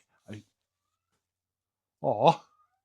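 A startled house cat lets out a short, sharp meow, then a louder, longer wavering yowl a moment later, close by in an otherwise quiet garage during a snow blower repair.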